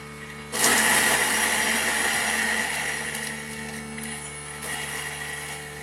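A Thermomix kitchen machine chopping a dry bunch of parsley, its motor starting abruptly and then whirring steadily at high speed, loud and close, slowly easing in strength over several seconds with no talk.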